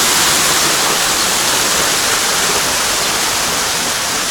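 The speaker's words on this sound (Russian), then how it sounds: "Тут вот есть еще водопадики." Small waterfalls pour at an aqua park resort pool, a loud, dense, unbroken rush of splashing water filling the scene with no voices.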